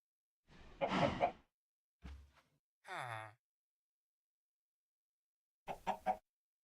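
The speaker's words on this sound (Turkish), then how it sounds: "Tavuk koridorda geziyor." A chicken in the Minecraft video game clucking in a few short, separate bursts with silent gaps between them, clear and close against a silent background.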